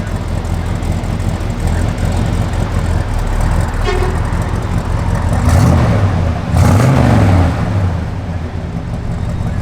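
A 1972 Oldsmobile 442 convertible with its matching-numbers 455 V8 drives along the road, a steady loud engine rumble rising through two revving surges, with a brief horn-like tone early on.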